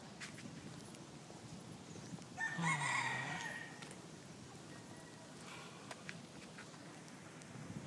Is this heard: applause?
no